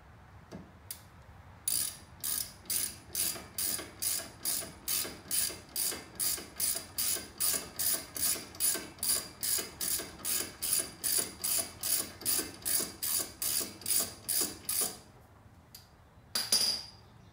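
A ratchet works on a Miata's brake caliper and bracket, a long steady run of about thirty crisp clicking strokes in even rhythm, close and clear, ending with a brief final clatter.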